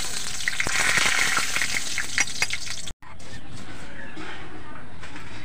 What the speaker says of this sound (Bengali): 1/2 চামচ ধনে আর দারচিনি, 2টো শুকনো লঙ্কা দিয়ে আমি গরম তেলে ভেজে নেব